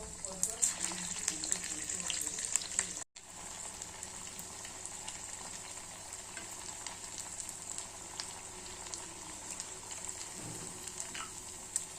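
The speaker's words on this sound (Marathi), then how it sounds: "या पद्धतीने छान अशी मी डिश तळून घेत आहे।" Crisp raw potato snack deep-fries in hot oil, a steady, faint hiss and crackle with a hint of water-like bubbling, running throughout after a brief dropout near the start.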